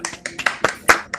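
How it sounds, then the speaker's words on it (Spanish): Applause from an audience closing a talk on research and experimentation as a method, heard as sparse, close, distinct claps in a short irregular burst. "Un aplauso"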